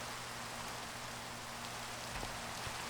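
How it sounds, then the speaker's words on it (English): Rain falls steadily in a dense, even hiss on a mountain where it had been snowing, continuous and moderately loud with no voices. "Now it's raining."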